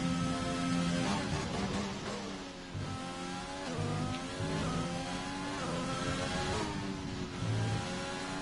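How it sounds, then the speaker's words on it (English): A race car accelerates on a fastest-lap attempt in a racing round, its engine note climbing and shifting through gears with a loud, sustained roar and no voices. "I really want to watch this fastest lap attempt from MDJ."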